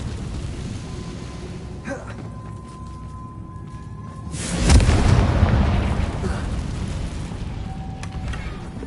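A Confringo blasting spell explodes in the Hogwarts Legacy game, a sudden deep boom about halfway through that swells and slowly fades into rumbling debris over a steady background.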